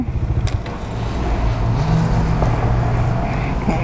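A Bajaj Dominar 400 motorcycle engine idles with a low steady rumble close by, holding even and loud before it is switched off, with no talk over it.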